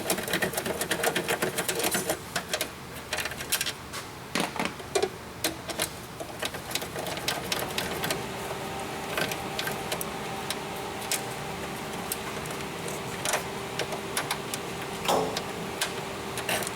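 Bolts being removed from a Volkswagen evaporative-system purge valve, a dense run of rapid metallic clicking and ticking from a wrench or ratchet, close and steady for the whole stretch over a faint workshop hum.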